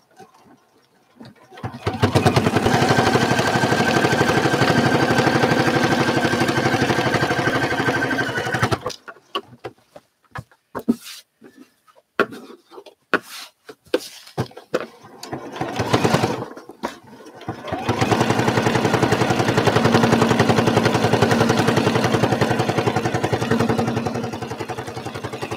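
A sewing machine runs a long seam on a quilt in one steady burst of close mechanical whirring. Then comes a stretch of quiet fabric handling, and the machine starts stitching again.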